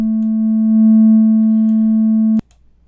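A steady pure sine tone from a eurorack synth oscillator routed through a mixer holds loud and even for over two seconds, then cuts off abruptly with a click.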